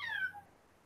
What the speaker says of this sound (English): That's my cat screaming at me.